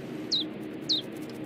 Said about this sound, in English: The Persian birds next door.